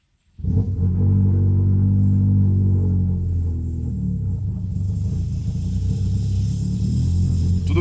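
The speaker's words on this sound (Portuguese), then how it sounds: "parece que está em marcha lenta um pouco alta" A modified Subaru car engine fires up after a brief silence and settles into a steady, loud, rumbling idle that runs slightly high, close by and with no talking.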